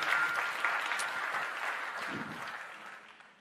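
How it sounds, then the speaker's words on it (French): Audience applause at a conference opening, a sustained wash of many hands clapping that fades slowly toward the end, heard alone without speech. "J'invite à me rejoindre Luc Servant, sous applaudissements, Jean-François Clédel et Gérard Gomez"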